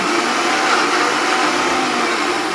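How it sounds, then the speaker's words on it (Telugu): A mixer grinder whirs loudly and steadily as it blends coconut chutney with water for dosa and idli, with a continuous motor drone and no pauses. "ఇలా 3 టైమ్స్ వాటర్ యాడ్ చేసుకుంటూ మిక్సీ పట్టి"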